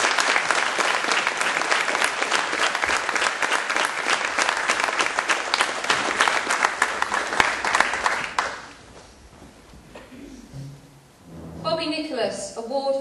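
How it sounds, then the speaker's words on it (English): Audience at a Year 7 and 8 school awards ceremony giving a long, loud round of applause for award winners, fading out after about eight seconds before a voice resumes. "If we can please give them a huge round of applause."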